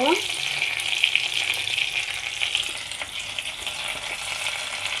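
Chopped onions and two bay leaves frying in a pan, a loud, dense, continuous sizzle that holds steady throughout with light stirring scrapes underneath.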